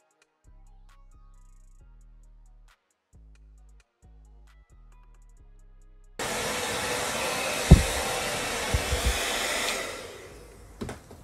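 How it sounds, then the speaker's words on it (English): A hair dryer blows on a wet 26-inch blonde Shein wig, starting abruptly after some quiet soft knocks and roaring loud and steady for several seconds before dropping away. "I like to wet the hair and blow dry it instead of curling it while it's bone straight from flat ironing"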